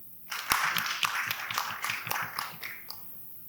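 An audience at a political by-election debate claps in a brief burst of uneven, moderately close hand claps that rises quickly and then thins out.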